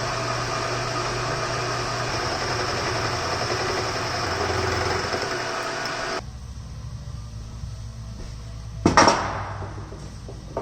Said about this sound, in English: let's chuck up some new tools and mill, and we shall get after it